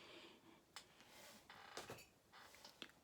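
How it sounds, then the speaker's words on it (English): A phone rings indoors in short electronic tone bursts, a few separated chirps at low to moderate level with faint clicks between them, no voice over it. "My phone is ringing."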